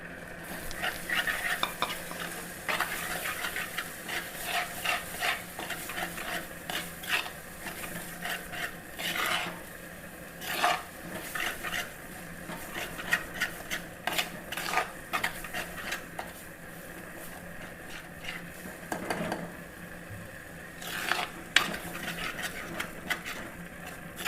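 Mango ground in a mixer simmers in coconut paste in a pan for a Kerala fish curry, with a soft steady sizzle under repeated scraping strokes of a spoon stirring against the pan.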